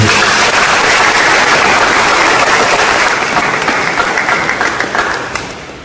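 A church congregation at the Feast of Our Lady of the Rosary in Rukadi bursts into loud, sustained applause that holds steady for several seconds, then thins out and fades toward the end.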